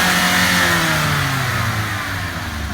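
A 2017 Mazda Miata MX5 Club Sport engine revs loud and close, a steady raspy drone whose pitch holds high and then eases slightly as the revs settle.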